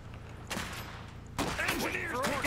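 Gunfire rattles in the video game Iron Harvest, first a short burst and then a heavier, sustained volley with battle noise and voices underneath.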